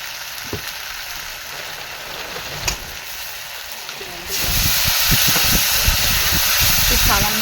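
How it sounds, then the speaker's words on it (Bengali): Spice masala cooks in a pan with a little water, giving a steady hiss that swells into louder sizzling bubbling partway through, with some clinks and a voice talking over it. "সামান্য জল দিয়ে কষে নিচ্ছে মশলাটা।"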